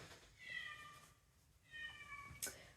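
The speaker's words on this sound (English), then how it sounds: "somebody's meowing down there" A cat meows twice, faint and somewhat distant, each call a drawn-out wavering cry, with a short click near the end over quiet room background.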